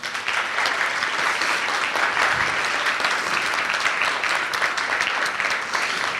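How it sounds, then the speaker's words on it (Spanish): A seated audience at a conference on investigative journalism applauds continuously, a steady, even wash of many hands clapping at moderate loudness with no voices on top. "Un aplauso"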